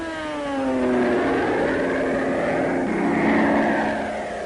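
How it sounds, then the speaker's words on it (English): WWII warplanes flying toward an enemy surface force over the Pacific, a droning multi-engine hum with steady harmonic tones that slowly shift in pitch, swelling and fading gently as the aircraft pass, no talk. "planes were flying toward the enemy's surface force"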